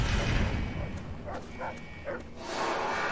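A dog in the video game Fallout 3 gives a few short barks and yips over a noisy, rumbling game backdrop, fairly faint and spaced within a second or so of each other.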